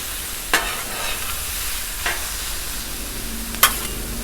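Chicken breasts and steak sizzle steadily on a 36-inch Blackstone griddle for fajitas, with a few sharp scrapes and clacks of a spatula punctuating the frying.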